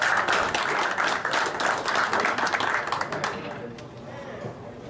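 Applause at a Rotary Club meeting, a dense burst of clapping from the room that fades over the last second, with a voice audible beneath.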